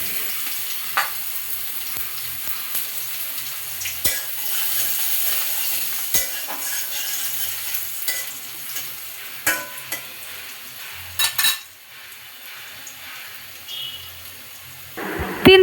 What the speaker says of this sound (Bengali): মাছের তেলে ফোড়ন দিয়ে দিব তেজপাতা, অল্প জিরে দিয়ে দিব, একটা রসুন ছেঁচে দিয়ে দিব